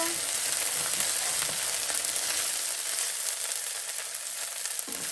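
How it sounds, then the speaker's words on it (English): Ginger and garlic paste fries in a pan for a vegetarian Manchurian, giving a steady close hissing sizzle that eases slightly toward the end, with a faint stir near the finish. "ginger and garlic paste. Mix it around and cook it for just around 30 seconds or so."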